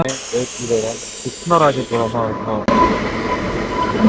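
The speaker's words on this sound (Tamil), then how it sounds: "அஞ்சாவது பிளாட்ஃபார்ம்ல ஏதோ ஒரு வண்டி வருதுங்க வேகமா போகுது" An express train speeds fast past a railway platform with a loud rushing roar and hissing air, briefly punctuated by a rising horn-like tonal blast, while a voice talks over the station din.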